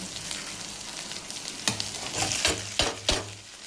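Onions fry in hot oil in a pan, sizzling steadily while a spoon stirs them and scrapes the pan several times with sharp clinks.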